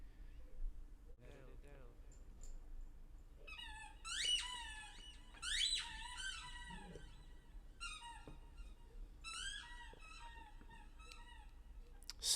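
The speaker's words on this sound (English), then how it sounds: "Squeaky ball, squeaky ball. My dog's got a squeaky ball." A dog's squeaky ball toy gives repeated high squeaks in irregular bursts, up close and fairly loud, under a quiet room background.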